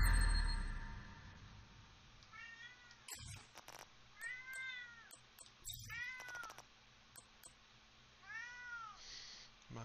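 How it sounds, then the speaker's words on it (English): A house cat meows repeatedly at close range, several rising-and-falling calls spaced a second or two apart over a soft steady background hum. "My cat is a talker."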